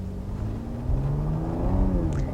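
A 2013 Cadillac ATS with a 3.6-liter, 321-horsepower V6 rumbles and gently revs, its low steady drone rising slightly, close and continuous without any talking.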